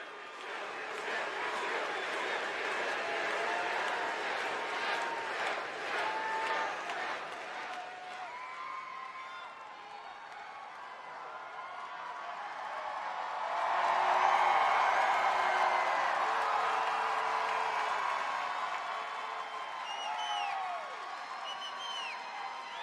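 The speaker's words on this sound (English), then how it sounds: "Let's hear the crowd reaction, everybody." Wrestling crowd at WWE RAW reacting to the Shield: a sustained roar of cheering and whooping with scattered applause, swelling louder midway and staying dense, voices mixed throughout.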